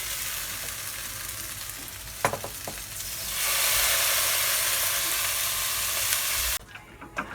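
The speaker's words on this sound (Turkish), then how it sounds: "makarnayı süzmeden direkt hafif suyuyla almaya başlıyoruz tavamıza" Cooked fettuccine with a splash of pasta water going into a hot frying pan of sun-dried tomato sauce, a loud continuous sizzle and hiss with clinks of stirring, swelling stronger midway before dropping off sharply near the end.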